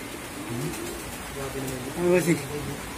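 A wet racing pigeon, a race contender, gives soft low cooing calls close by, with a louder coo toward the end, while people talk over it.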